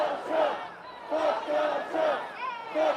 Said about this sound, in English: You can hear the crowd now chanting, "Fuck Donald Trump."